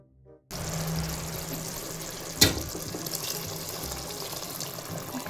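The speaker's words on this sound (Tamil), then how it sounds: "எதுக்கு வெண்ணி ஊற்றிட்டு இருக்கு இதில்?" Steady rushing water runs continuously as hot water pours into a pot, with a brief clink partway through and no talking.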